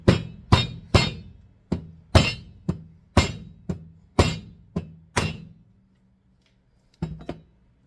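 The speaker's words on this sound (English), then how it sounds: "The sleeve takes a little bit more force, so we're gonna use the mallet" A mallet drives a sleeve into a polyurethane bushing on the front suspension of a Lexus GS300/GS400 with a series of about a dozen sharp, close knocks at an uneven pace, then a pause and two final taps.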